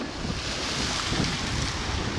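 Sea waves wash onto the beach at Anapa on a warm January day, a continuous broadband rush of surf blended with wind noise on the microphone. There are no voices.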